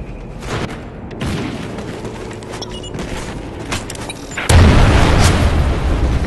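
A Trinity rocket strike blasts in Call of Duty: Ghosts on the Pharaoh map, loud battlefield rumble and scattered pops building to a heavy, sustained explosion roar in the last two seconds.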